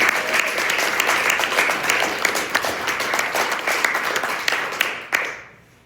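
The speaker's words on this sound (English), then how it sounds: "let's give them a round of applause also" A crowd gives a round of applause at an intactivism rally, dense sustained clapping filling the space for several seconds before tapering off at the end.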